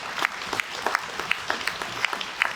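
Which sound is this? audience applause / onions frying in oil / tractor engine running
audience applause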